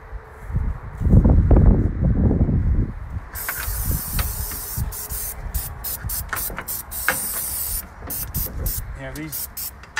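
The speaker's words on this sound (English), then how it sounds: "Okay, get some spray." Aerosol spray hisses in several short and long bursts onto vehicle hinges while a motor is being mounted, with people talking over the first seconds and faint mechanical clicks between sprays.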